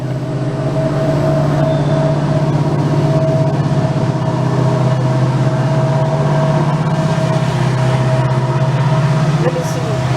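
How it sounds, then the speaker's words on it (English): A train rumbles past at steady strength, with a continuous low droning hum and faint rattling that hold throughout at close range. "So you can hear the train."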